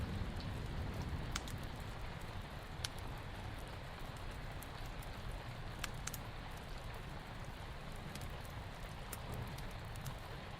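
Steady, even rain patters on a surface throughout, with occasional sharper drops standing out.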